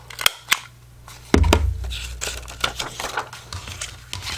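Scissors snip paper for a junk journal in a few sharp, close cuts, first two quick clicks, then a longer crisp run of crinkly cutting and paper handling.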